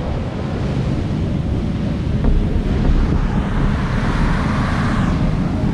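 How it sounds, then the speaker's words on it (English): Heavy surf and strong wind on the shore during the Hurricane Nicole storm surge, a steady, loud roar of disorganized breaking waves with buffeting wind noise across the microphone throughout, with no talk. "waves waves are pretty bad out here right now"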